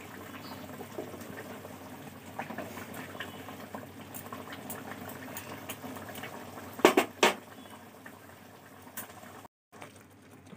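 Raw mango pieces, fried first, simmer with tomato in a pan for chutney, giving a soft, continuous bubbling with a few brief clicks and clatters close by.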